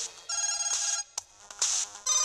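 A mobile phone rings from inside a pocket, its loud electronic ringtone repeating in bright bursts with short gaps between them, heard close and alone.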